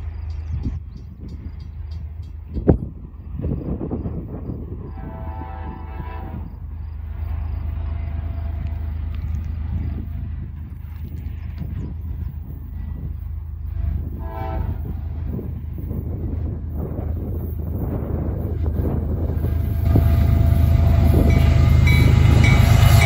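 A CSX intermodal freight train rolls past at Lake Avenue in Blasdell, New York, a loud continuous low rumble with wheel and car clatter that swells toward the end, plus a brief sharp knock early on.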